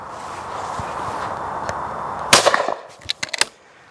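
Shotgun fires at a clay target with an adjustable comb, giving one sharp loud report followed by a few quieter cracks and clatters, over a steady background hiss.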